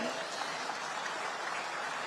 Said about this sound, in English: This also calls for a thundering round of applause, ladies and gentlemen.